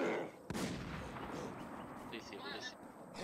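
Gunfire in the Infestation The New Z survival video game: one sharp, fairly loud shot cracks out early and is followed by a faint echo, with players talking over the game's ambient noise.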